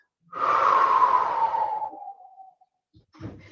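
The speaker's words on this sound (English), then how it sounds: "And take a deep breath in, lift from my head, lift from my pelvis. Inhale, stack up tall. And exhale, roll back." A single long breath during a Pilates-style exercise, an airy rushing exhale that fades over about two seconds, followed by a softer short breath.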